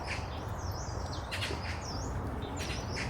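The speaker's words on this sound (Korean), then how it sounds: "안으로 들어갈수록 새소리가 더욱 많아집니다." Birds chirp and whistle in short repeated calls over a steady hiss of outdoor ambience in a small urban forest in Seoul, moderately distant.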